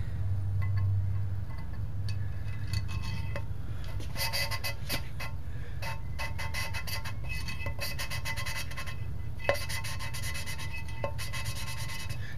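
Two 327 engine surfaces being lapped together by hand, steady gritty rubbing strokes up close that repeat rhythmically and grow slightly quieter as they go.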